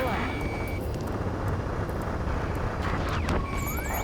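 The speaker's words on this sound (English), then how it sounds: "Gunfire and the roar of jets echoing through the streets." Jet aircraft roar over a city under martial law in the Ace Combat 7: Skies Unknown video game. A loud, steady rumble sweeps past, with a few brief whooshes near the end.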